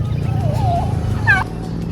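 A turkey gobbles twice nearby on a farm, warbling calls over a steady low rumble of background noise.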